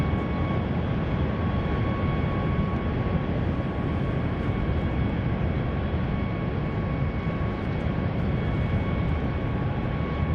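An ATR turboprop arriving from the Isle of Man for touchdown at Manchester Airport, its engines making a steady broadband roar with a faint whine, constant and fairly loud throughout with no voices.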